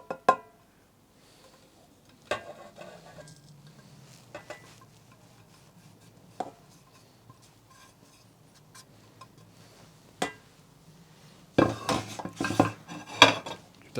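Herbs and puree being mixed into Adana kebab meat in a bowl: sparse clinks and knocks of a utensil against the bowl with quiet stirring, ending in a busier burst of clattering, no talk.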